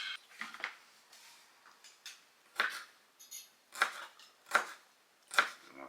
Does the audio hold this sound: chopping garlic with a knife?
yes